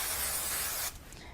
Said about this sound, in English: a little bit of spray on the back.